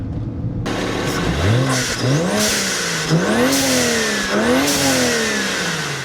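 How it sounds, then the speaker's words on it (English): A nearby BMW four-door sedan's turbocharged engine revs up and down several times, each rise ending in a sharp hissing whoosh of a turbo blow-off valve. "after hearing those turbo noises and that blow-off valve"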